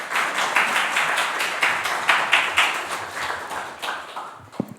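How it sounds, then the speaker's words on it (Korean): A church congregation claps in steady rhythmic unison to welcome a guest professor during a Sunday service, a brisk run of synchronized beats with a small crowd's spread, ending with a few sharp knocks. "교수님 나오실 때 큰 박수로 맞이해 주시길 바라겠습니다."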